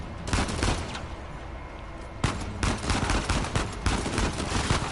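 Gunfire in Uncharted 4 multiplayer, with loud sharp shots in quick irregular bursts and a heavy crack partway through over a dense battle din.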